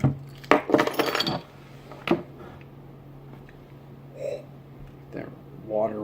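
A bottle of Green Flash Dia De Los Serranos beer is opened close by with a quick cluster of glassy clinks and rattles, then a sharper tap. A few faint vocal sounds follow near the end.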